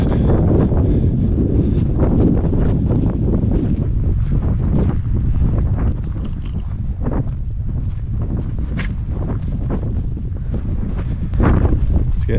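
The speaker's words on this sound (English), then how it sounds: "It's getting rather gusty out right now." Strong gusty wind buffets the microphone on a hiking trail at Kodachrome Basin State Park in Utah, a loud continuous low roar that swells and eases for the whole stretch, with no talking.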